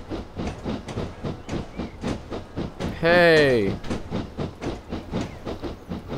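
A 7F steam locomotive in Train Simulator 2014 running between Midford and Radstock, with steady rhythmic chuffing beats and clattering wheels, briefly cut through by a loud tonal whistle while someone shouts once.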